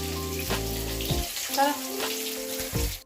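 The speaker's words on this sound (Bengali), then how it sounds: "আমি মাছটা ভেজে তারপরে স্নানে ঢুকবো" Hilsa fish fries in a pan in a home kitchen, giving a close, crackling sizzle. Tonal background sounds and a faint voice come and go above it, and the frying briefly swells in the middle.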